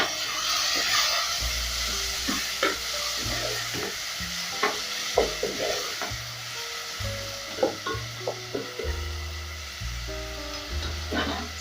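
Onions and tomatoes with a pinch of salt cooking down in a pot for a thick beans stew: a soft continuous sizzle and hiss, punctuated by repeated scraping stirs and spoon knocks, close and without talk.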